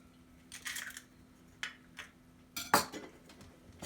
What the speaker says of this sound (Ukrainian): Все це зіб'ємо.